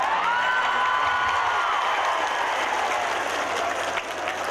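An audience at a religious lecture gathering in Taiwan bursts into loud, sustained applause, with some cheering and shouts mixed into the dense clapping throughout.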